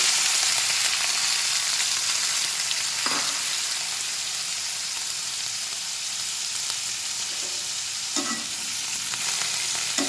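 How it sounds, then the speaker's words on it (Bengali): Ginger, garlic, onion, tomato and spices frying in melted butter, a continuous close sizzle with a few soft stirring scrapes and no voices. "বাটারটা একটু গলে গেছে, আমি এর মধ্যে এই মশলাগুলো দিয়ে দেবো"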